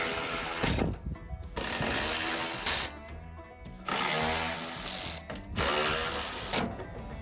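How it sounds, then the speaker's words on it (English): A ratchet works loose 8mm bolts from the grill and headlight support of a 1996 Ford Econoline van, clicking in quiet, repeated bursts separated by short pauses. "We're now ready to remove the grill and headlight support, and there's about 8 bolts."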